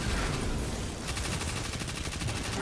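Rapid SMG gunfire in Destiny 2 rattles out in a fast, continuous burst of shots, loud and close, with no talking over it.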